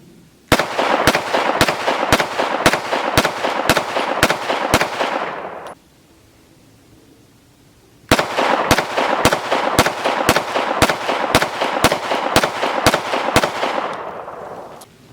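Two rapid strings of loud, sharp pistol shots from a Walther PDP and a Springfield Armory Echelon, about ten evenly spaced reports in each burst, separated by a short quiet pause, close and without talk.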